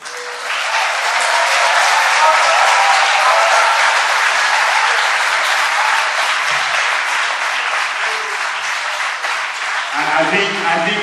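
Sustained audience applause at a lecture on Esan traditional marriage practices: a dense, loud wall of clapping and crowd noise that runs steadily before tapering near the end, where a voice begins to speak.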